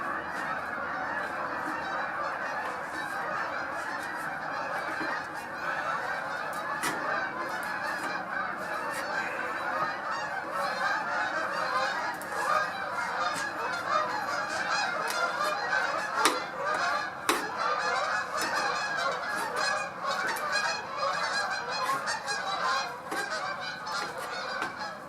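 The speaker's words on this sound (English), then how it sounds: "Crazy geese are headed north." A large flock of geese heading north, honking continuously in a dense overlapping chorus at steady loudness, with no voices present.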